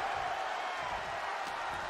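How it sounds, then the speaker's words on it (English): A wrestling arena crowd in WWE 2K24 roars in a steady, broad wash of cheering that stays faint and continuous, with light talk over it. "Listen to this crowd."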